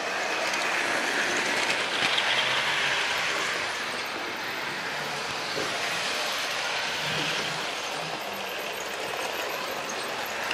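A model train runs steadily along its track, a continuous rolling rumble and rattle that holds for several seconds.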